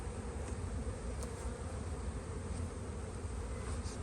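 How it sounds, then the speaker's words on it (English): Bees from an opened spring beehive buzzing in a dense, continuous drone, close and steady throughout, with no voices. "All the bees back in the box."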